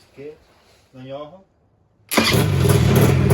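An Izh Jupiter motorcycle fires up on its electric starter, catching at once into a loud, rough running engine right after someone speaks briefly nearby.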